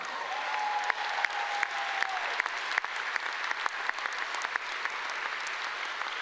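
A university commencement audience applauds in a sustained, even burst of many hands clapping, moderately distant and steady throughout, with a brief voice or whistle near the start.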